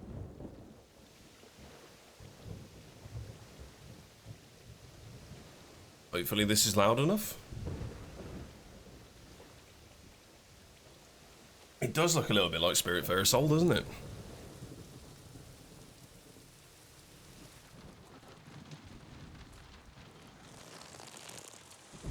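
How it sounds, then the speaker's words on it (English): Thunder rumbles twice in the game Diluvian Winds, two loud rolling peaks over a steady wash of rain, with someone talking quietly between them. "so there's some sort of mad storm"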